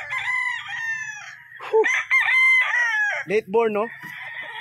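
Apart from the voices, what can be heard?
chickens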